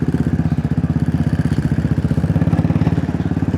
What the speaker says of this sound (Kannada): ರಾಯಲ್ ಎನ್ಫೀಲ್ಡ್ ಟಾರ್ಕ್ ನೋಡಿ.